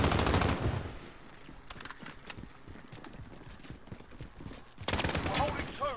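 Rapid automatic gunfire bursts in the online shooter Call of Duty: Modern Warfare, Domination mode: a loud burst opens, scattered shots patter underneath, then another heavy burst closes, with radio-style voices talking over it.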